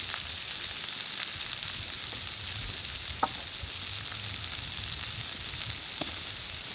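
Onions caramelize in oil in a pan over a campfire, giving a steady, close sizzling hiss with a couple of faint clicks and no talking.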